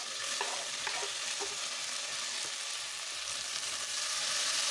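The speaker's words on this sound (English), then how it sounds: "Stir it to mix with the onions as you try to break the tomatoes down" Chopped tomatoes stirred into sautéing onions in a pan for a Kenyan arrowroot stew, with a continuous bright hiss of frying and a few soft spoon scrapes.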